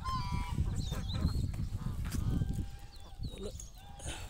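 Ducks on a duck farm in Kuwait quack and honk in a busy, noisy pen, with a constant crowd of calls and rustling close by and faint talk underneath.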